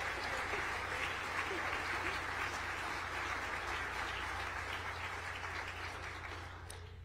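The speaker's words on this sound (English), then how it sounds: "I see Liz Elliott clapping in the background" Steady applause from an audience at a mayor's state of the city address fills the space evenly, dense and mid-distance, slowly fading toward the end.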